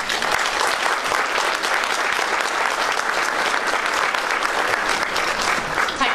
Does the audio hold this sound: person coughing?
no